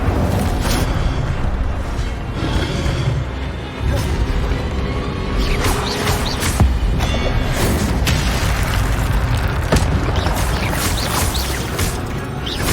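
Spell-casting fire blast in the Hogwarts Legacy video game, a dense, loud roar of bursts and crackling booms that runs continuously with sharp hits scattered throughout, no talk over it.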